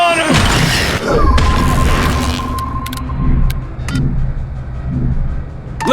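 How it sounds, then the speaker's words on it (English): A grenade blast in The Bureau: XCOM Declassified, a loud booming crash near the start followed by rumbling debris and further thuds amid battle noise. "Take cover! Grenade!"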